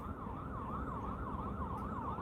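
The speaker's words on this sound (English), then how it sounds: "You guys hear the sirens?" An emergency vehicle siren wails in a continuous rising and falling sweep, a steady moderately distant tone riding over low traffic rumble from passing cars.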